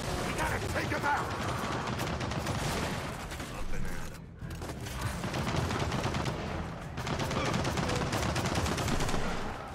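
Sustained automatic turret gunfire in Gears of War 4, dense rapid bursts running almost the whole time with a brief pause midway, loud and close, mixed with other battle noise and no clear talk.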